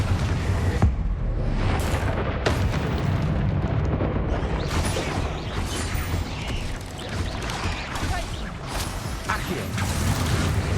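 The Confringo fire spell in Hogwarts Legacy, booming blasts and crackling bursts over continuous dense spell-combat noise, loud and sustained, with no clear talk.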